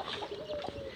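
A pigeon at a village pigeon event coos once in a soft, low warble, fairly faint against faint outdoor background noise.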